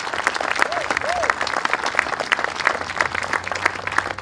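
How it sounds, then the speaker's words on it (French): An audience claps steadily through a monument inauguration ceremony in Alfred, Ontario. The dense applause is mixed with a little background chatter and a brief cheer. "Une autre bonne main d'applaudissements à nous tous"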